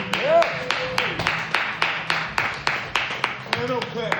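Rhythmic, evenly spaced hand claps from an audience at a live event, keeping a steady beat while voices talk over them.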